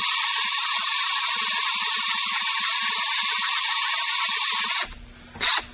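A high, whining drill drives a Drill N' Tap bit cutting threads in metal, running steadily for several seconds, then cuts off, leaving a brief grinding rattle and a short burst near the end.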